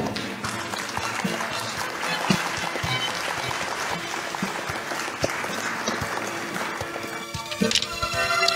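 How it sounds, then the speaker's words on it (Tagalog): Sustained applause from a church audience at a Filipino pastor's sermon, steady clapping filling the room throughout with a brief louder burst near the end. "Palakpak naman kayo dyan."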